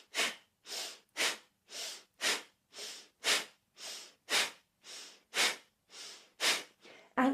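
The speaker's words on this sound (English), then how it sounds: "we're breathing powerfully" Powerful kundalini yoga kriya breathing: about fourteen forceful, evenly spaced breaths pushed sharply through the nose, close and clear, with silence between each breath.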